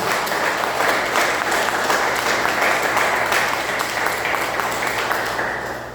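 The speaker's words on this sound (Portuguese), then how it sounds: "Aplaudamos o nosso Deus." A church congregation applauds during a worship service, with dense, sustained clapping from a large crowd that holds steady and then begins to fade at the end.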